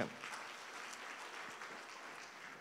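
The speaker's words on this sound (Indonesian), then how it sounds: "Kasih tepuk tangan buat Tuhan" A church congregation at a Sunday service claps together, a soft, steady patter of applause heard from a distance for a few seconds.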